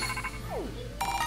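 Bright electronic notification chime of a phone in the Pokémon Violet video game, a short rising tone burst over a steady game music bed, heard alone without talk.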